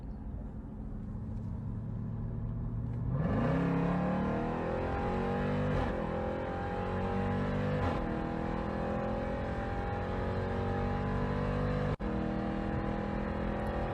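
A supercharged Jeep Trackhawk engine idles low, then revs hard and stays at a loud, high-pitched roar with a supercharger whine, dipping briefly between surges.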